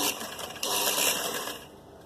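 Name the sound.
sewing machine stitching folded fabric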